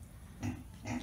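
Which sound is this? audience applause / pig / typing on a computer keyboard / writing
pig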